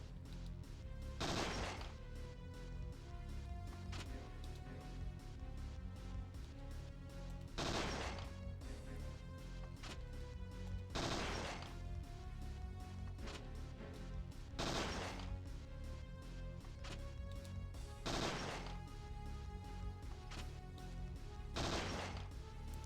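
Gunshots fired at targets in Parasite Eve II ring out as six sharp, evenly spaced blasts over a steady backing of game music.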